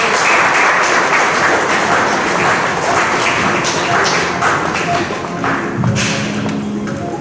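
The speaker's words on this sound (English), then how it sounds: "Guys, keep the applause going." An audience at a smart calculator launch event keeps up a sustained, dense round of applause, loud and continuous throughout, with a few heavier taps and thumps mixed in.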